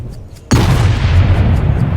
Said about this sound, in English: Excellent opening tee shot right in the fairway.